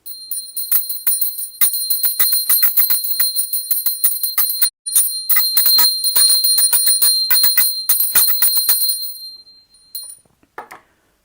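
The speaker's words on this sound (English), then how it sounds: "I'm just going to do a little bit of clearing with the bell before we start" A bell rung for energy clearing gives repeated bright metallic strikes with a sustained high ring, steady and fairly loud for about nine seconds, then a few fading final tones. No one speaks.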